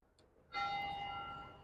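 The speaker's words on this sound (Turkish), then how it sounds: "Bu çanlar bizim için çalıyor" A single church bell strike in Florida rings out and hums with a sustained, slowly fading tone, heard clearly after a faint start.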